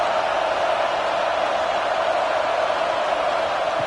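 A stadium crowd at a football game roars in a steady, dense wash of cheering and noise that holds at a constant level throughout, with no distinct voices standing out.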